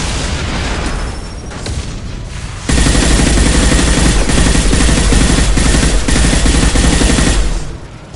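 Sustained automatic weapon fire from Mass Effect 2 Legendary Edition crackles in dense, rapid bursts, loud and close, rising abruptly into a continuous barrage before tapering off at the end.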